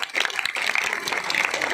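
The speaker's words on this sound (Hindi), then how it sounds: "सुनील भाई के लिए तालियों से इनका स्वागत किया जाए" An audience at a motivation seminar and award ceremony applauds to welcome the organiser, a brief, dense burst of many hands clapping at once, fairly close and continuous.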